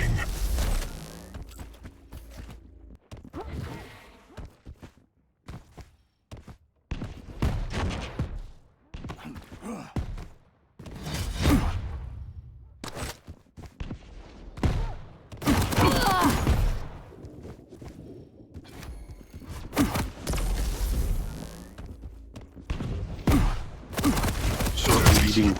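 Rockets firing and exploding in the arena shooter Quake Champions during a duel tournament match, a string of irregular thumping blasts and bursts throughout, with the game's sound effects between them.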